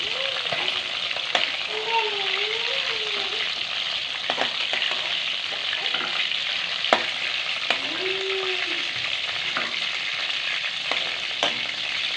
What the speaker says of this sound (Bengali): মাছগুলো একটু লাল করে ভেজে নিয়েছি